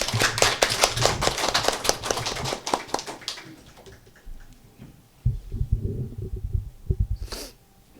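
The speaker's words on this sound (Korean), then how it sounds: "자 우리 큰 박수로 환영해 주시겠습니다." A church congregation applauds during a Passion Sunday worship service, a dense run of clapping that is loud at first and fades over several seconds, followed by softer low rumbling and a few scattered claps.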